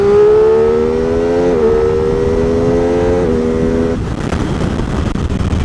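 An MV Agusta F3 motorcycle accelerates hard in first and climbs through the gears on a short straight, its engine note rising and then dropping sharply at each clutchless quickshifter upshift, two crisp shifts before settling into a rough, loud drone.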